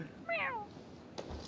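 A human voice imitating a cat gives one clear, drawn-out meow close to the microphone, followed by a brief soft noise.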